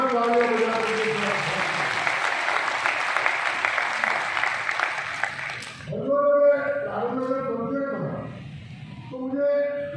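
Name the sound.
audience applause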